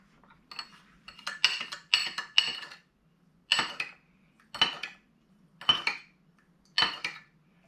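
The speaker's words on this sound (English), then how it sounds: "Make sure you dissolve the sugar into the fish sauce." A spoon scrapes and clinks against a bowl while sugar is stirred into fish sauce, in short bursts of clattering strokes with brief pauses, close and clear over a faint hum.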